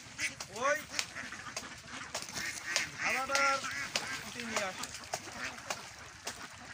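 A large flock of around 550 ducks quacks and honks noisily in repeated overlapping bursts, close by, while people talk nearby.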